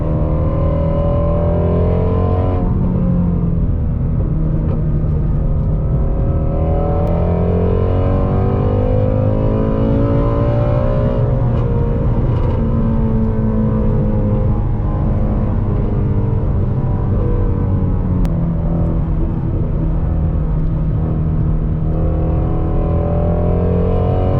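A Ford Mustang GT350 engine pulls hard on a backroad, loud and close with rising and falling revs through repeated gear changes, its sweeping exhaust tone continuous and without talk.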